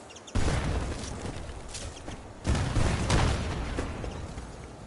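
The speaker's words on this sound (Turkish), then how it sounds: "Bak bana bomba atıyor." Grenades hurled at the player in a video game: two heavy, booming blasts a couple of seconds apart, loud and near, each trailing off into a rumbling decay.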